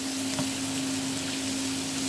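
Bell pepper sautéing in a pan for chilli con carne gives a steady, moderately loud sizzle and crackle that carries on without pause, with no talk.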